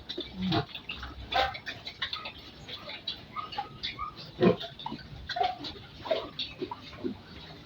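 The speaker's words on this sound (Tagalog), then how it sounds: "ito na sila yung mga inahing baboy ko. Tatlong inahing baboy ko." Three pregnant sows, about 100 days along, grunt on a farm in short, irregular bursts at moderate distance, with no talk over them.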